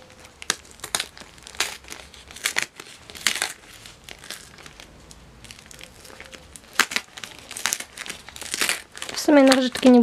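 Close, continuous crinkling and tearing of paper as a parcel is unwrapped, with bursts of rustling throughout and a brief voice at the end.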